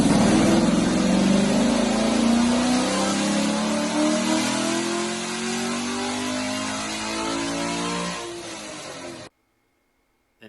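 A Chevrolet Camaro with naturally aspirated heads, cam, intake manifold and cold air intake roars loud and close on a dyno, engine note climbing steadily through a long sustained pull before cutting off abruptly.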